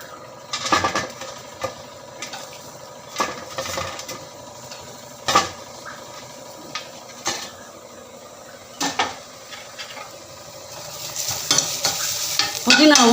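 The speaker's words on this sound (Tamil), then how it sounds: "புதினாவும் கொத்தமல்லியும் கொஞ்சம் வதக்கிக்கலாம், சீக்கிரம் வதங்கிடும்." Mint and coriander leaves sauté in a hot pan, a soft sizzle broken by repeated scraping stirs of a spatula at irregular intervals, close and alone.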